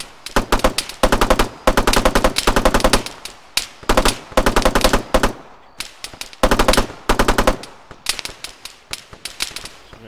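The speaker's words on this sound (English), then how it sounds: "So we're getting shot from somewhere" Automatic gunfire in ArmA 3 during a cooperative extraction mission: repeated bursts of rapid shots, loud and close, broken by brief pauses over about ten seconds, with no talk.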